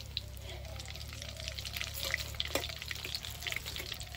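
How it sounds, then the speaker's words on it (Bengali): Egg lollipops deep frying in hot oil, a steady close bubbling sizzle with small pops and crackles running throughout. "আমি এইরকম করে সবগুলোকেই ভেজে নিচ্ছি লাল লাল করে"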